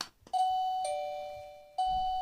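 A Fuers wireless smart doorbell chime at lowered volume rings two ding-dong tones twice, clear and moderately quiet, sustained ringing between strikes with no voices.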